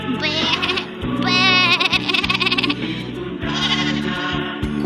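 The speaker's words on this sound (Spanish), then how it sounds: "todas las ovejas se alegraron mucho al ver a su compañera. ¡Bé! ¡Bé! ¡Bé!" Sheep bleating in a children's story of the Good Shepherd and his flock: several loud, quavering bleats in a row, close and clear, with no talking over them.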